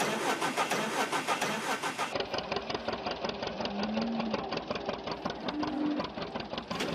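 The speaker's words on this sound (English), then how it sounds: "let's get the old John Deere here fired up" A John Deere tractor engine in Farming Simulator 2013 cranks over for about two seconds, then catches and settles into a steady, rumbling idle that runs on alone.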